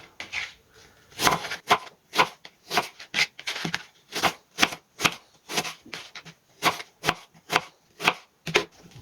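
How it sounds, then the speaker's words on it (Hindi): A knife cutting pitted fruit into even cubes on a board, crisp rhythmic chops, close and loud, about two per second with brief pauses between strokes. "इसको हमने क्यूब्स की शक्ल में काटना है।"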